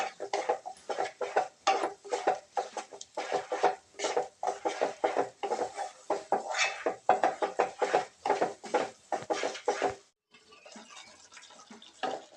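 A spoon stirring spices, coriander powder, garam masala, salt and red chilli into onion-tomato paste in a pan, repeated scraping and tapping strokes in a steady rhythm, close, ending in quieter sizzling.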